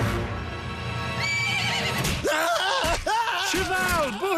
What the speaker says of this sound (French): Ça suffit, cheval, tu ne fais que piétiner de la chair morte